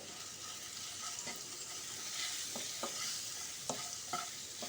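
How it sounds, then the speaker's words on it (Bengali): A pan of potato with turmeric and chilli powder is stirred over the heat, a quiet continuous sizzle with scattered light scrapes and taps of the spoon, nearby and without speech. "তো এটা দিয়ে আমি খুব ভালোভাবে নেড়ে চেড়ে মিশিয়ে নিলাম।"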